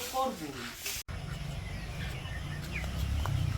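In a village at early morning, chickens cluck softly and intermittently while being fed. A voice speaks briefly at the start, and the clucks continue low beneath a steady background.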